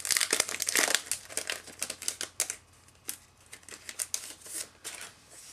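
Washi tape rolls being handled during a subscription kit unboxing, giving close, quiet crinkling and rustling in quick irregular bursts, busiest at the start and then continuing in scattered taps and crackles.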